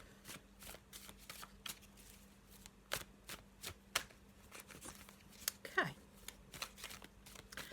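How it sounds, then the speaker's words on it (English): A black and white Faulkner tarot deck being shuffled by hand, quick papery riffles and card slaps in irregular bursts, close and fairly quiet, with a brief spoken word. "Let me just have a little shuffle and see what the black and white Faulkner deck's got for us"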